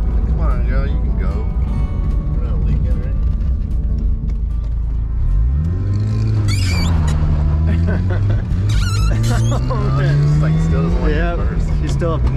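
A Mazda RX7 with a new clutch slave cylinder drives to warm up, its engine droning loudly and rising in pitch as it accelerates through low gears, with people talking over the cabin noise.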